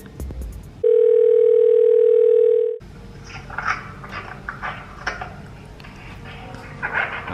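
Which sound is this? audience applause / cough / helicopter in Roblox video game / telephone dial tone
telephone dial tone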